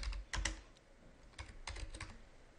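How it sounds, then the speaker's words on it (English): Several bursts of computer keyboard typing while a syllabus title is entered into a course site, with quick clustered key clicks separated by short pauses, close and fairly quiet, no talking. "So I'll just type in Syllabus"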